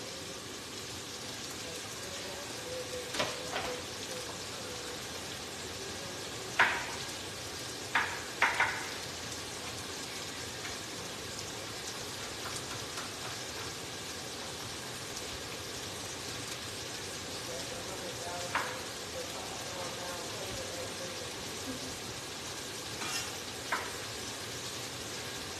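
Garlic fries in hot oil with a soft, continuous sizzle, punctuated by several sharp clinks and stirring knocks of a utensil against the pan.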